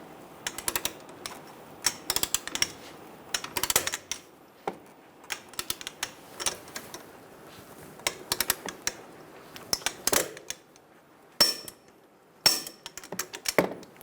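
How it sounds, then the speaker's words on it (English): Torque wrench tightening the strut pinch bolt on the front suspension knuckle of a 2000-2007 Ford Focus: irregular bursts of sharp ratcheting clicks and metallic taps, close by, with short pauses between. "Torque the strut pinch bolt to 111 foot-pounds."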